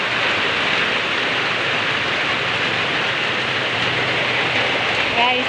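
Heavy rain pours steadily in a barangay in Misamis Oriental, a dense, loud, unbroken roar of water filling the whole scene with no pauses.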